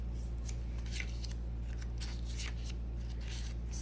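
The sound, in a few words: playing cards being shuffled and mixed up on a table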